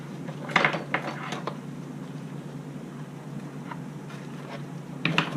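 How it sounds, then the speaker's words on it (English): Clamps being worked tight while fitting a firewall on a Stinger Sport build, giving scattered metallic clicks and clatter in short bursts near the start and end, with quieter handling noise between. "But since we have some clamps, we're going to use clamps."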